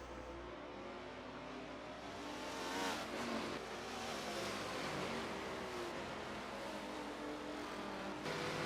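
Multiclass race cars, GT cars and DPi prototypes including a BMW, lap the Circuit of the Americas in a racing video game, with a continuous loud engine roar that swells and holds steady throughout.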